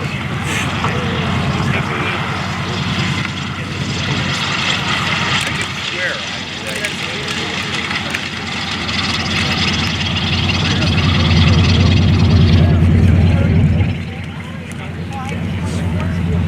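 A WWII Corsair fighter plane comes in to land at an air show, its propeller engine a loud sustained drone that swells and then eases off, with a voice commentating over it.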